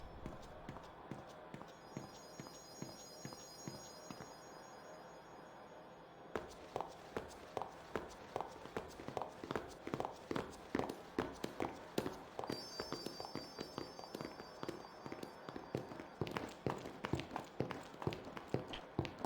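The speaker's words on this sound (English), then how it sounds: "you can always hear the footprints, or the footsteps, not footprints, the footsteps, like super, super loud." Regular footsteps in the video game Final Fantasy X tap along crisply and loudly in a steady walking rhythm, with a brief quieter pause partway through.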